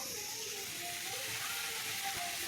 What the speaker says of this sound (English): And I'm gonna add some black pepper. Saute this down.